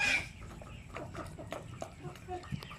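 Native chickens cluck softly while feeding on leaves and leftover rice, scattered short calls over a low rustling background with a brief louder sound at the start.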